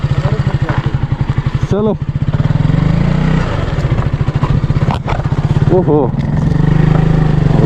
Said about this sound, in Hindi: अब KTM की बारी। हाँ हमारी बाइक थोड़ी थोड़ी स्लिप मार रही है